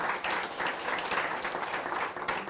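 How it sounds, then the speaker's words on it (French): An audience claps loudly and steadily at the close of a web conference, a dense continuous round of applause lasting a few seconds with no voices over it. "On peut les applaudir très très fort"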